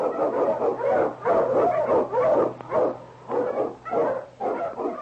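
An Eskimo sled dog barks and yelps repeatedly in rapid bursts, fairly loud and close, with a steady low hum underneath, from an old-time radio broadcast.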